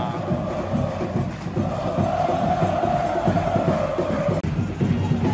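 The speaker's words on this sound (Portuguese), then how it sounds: "Defesaça e a torcida se anima." Roaring football stadium crowd at a Série B match between Paysandu and Novorizontino at the Curuzu, swelling into cheers after a goalkeeper's great save, a broad continuous wash of voices that holds steady and loud.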